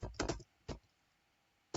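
Typing on a computer keyboard, a few quick clusters of close key clicks separated by short pauses in a quiet room, ending with another burst.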